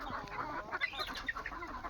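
Chickens and roosters of a pure desi free-range poultry farm cluck and call in a busy overlapping chorus, moderately close and steady throughout.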